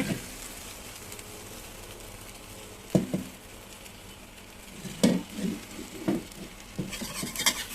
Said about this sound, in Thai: ใส่น้ำมันเล็กน้อยค่ะ ความร้อนทั่ว กระทะแล้วก็ใส่ไข่ลงไปเลยนะคะ